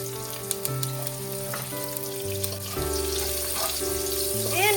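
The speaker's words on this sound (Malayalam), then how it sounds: "കടുക് പൊട്ടിച്ച ശേഷം വെളുത്തുള്ളി." Garlic sizzles steadily in hot oil after mustard seeds have popped, cooked for prawn rice; the crackling fry runs under tonal background music and grows louder toward the end.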